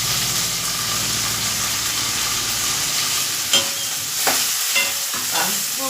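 Chopped tomato and green chillies fry and sizzle in a pan with a loud, steady hiss throughout. Near the end come a few soft scrapes of stirring, close up and with no talk.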